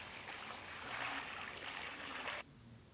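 Water poured into a dent in a mound of mixed compost ingredients, a steady splashing gush that swells slightly and then stops abruptly, leaving quiet background.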